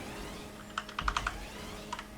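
A computer keyboard's E key tapped during play of Grand Theft Auto V, a quick cluster of five or six close clicks followed by a pair more after a short pause, with no voices.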